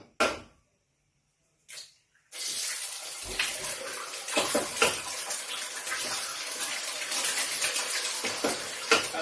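Three eggs go into a hot frying pan after a couple of brief thuds, then a loud, dense, continuous sizzle takes over and keeps crackling steadily, with no talking.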